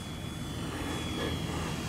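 A radio-controlled model airplane flies past on a low pass, its engine giving a steady, loud buzzing drone that fills the whole short stretch, with no talk.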